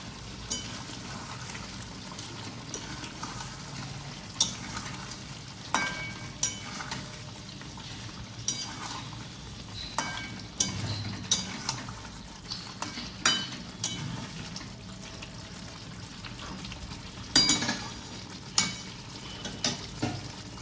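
Chicken with two large pieces of potato cooks in a pot, giving a faint, low sizzle and bubbling broken by intermittent stirring knocks and clinks.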